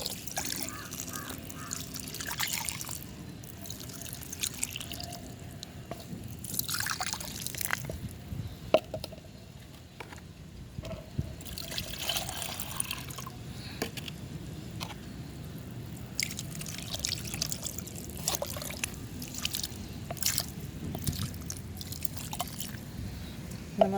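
Water is poured onto organic mulch, making soft, irregular dripping and squishing splashes at close range over quiet outdoor background, with no talking.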